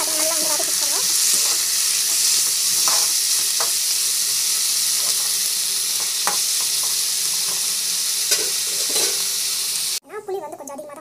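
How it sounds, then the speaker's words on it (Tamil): Garlic and onion sautéing in a pan, a steady loud sizzle with occasional stirring scrapes throughout, cutting off near the end as a voice speaks briefly. "காஞ்சி போட்டு பூண்டு ஆனியன் நல்லா வந்து வதக்கிக்கோங்க."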